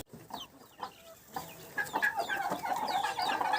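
A broody crested hen clucks in low, repeated murmurs close by in a farmyard, with softer chirps of chicks scattered around her.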